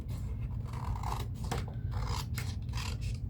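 Scissors snipping through paper for a paper bag folio, a run of soft, close crisp cuts and rasping slides against a steady low background hum.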